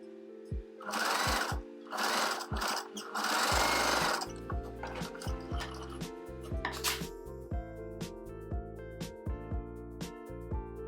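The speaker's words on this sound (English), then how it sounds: "I've simply placed the plissé tier underneath and I'll be stitching on top." A sewing machine stitching a plissé tier onto a dress hem, running in short loud bursts at first, then settling into a steady rhythmic mechanical thumping.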